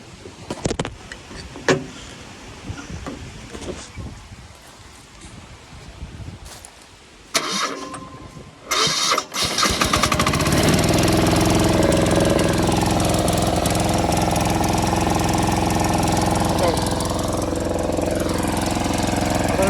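A car engine starts and runs steadily through an exhaust muffler that has just been tack welded on, a loud continuous drone after earlier clatter and handling sounds.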